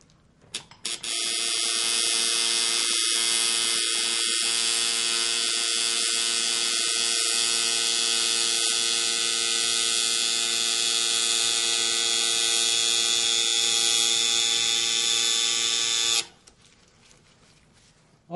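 A tattoo machine with needle and tube runs while lining, giving a loud, steady electric buzz with a constant pitch that lasts about fifteen seconds and then cuts off abruptly.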